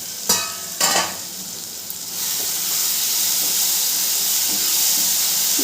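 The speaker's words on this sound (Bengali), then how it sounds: "মশলাটাকে একটু নেড়ে চেড়ে দেবো।" A spice mixture with tomatoes sizzles loudly in a pan for an omelette curry. A couple of sharp scraping knocks from stirring come early, then a steady, dense hiss of frying builds and holds. It is close, and no one speaks.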